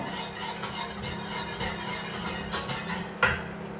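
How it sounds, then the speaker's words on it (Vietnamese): Black grass jelly mixture stirred in a pot over medium-low heat, a steady scraping swirl of utensil against the pot sides with small clinks and light knocks, close and continuous, no talking. "Chúng ta đảm bảo khuấy ở các góc cạnh để tránh những trường hợp bị vón"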